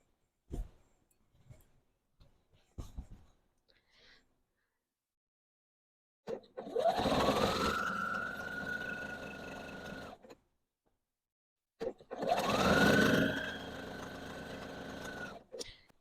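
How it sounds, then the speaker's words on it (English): A home sewing machine chain-sews Christmas pillow cases, whirring in two sustained runs of several seconds each, preceded by soft handling clicks and fabric rustles, near and steady. "I'm just going to feed the next one right in. It's called chain sewing."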